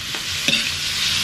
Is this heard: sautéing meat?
yes